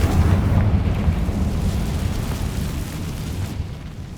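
A Confringo blasting spell explodes in Hogwarts Legacy, a heavy booming blast with a rumbling low-end decay that rolls on for several seconds, loud and close with no talking.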